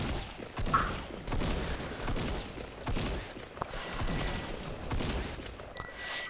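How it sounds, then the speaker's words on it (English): Rapid gunfire in a shooting video game, dense bursts of shots and clattering mechanical noise at moderate volume, continuous throughout. "Stop shooting at me!"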